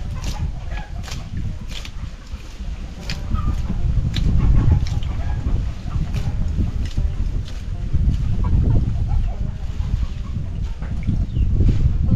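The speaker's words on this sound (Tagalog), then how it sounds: "Damot yung manok." Chickens cluck and mutter repeatedly at close range on a small farm, in soft irregular bursts over low rustling background noise.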